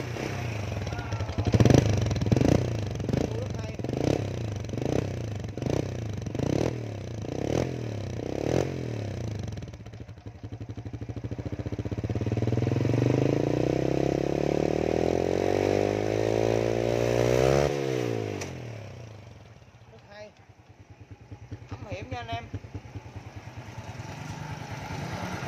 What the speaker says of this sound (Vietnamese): Nghe tiếng nha. Máy bịch bô nha anh em.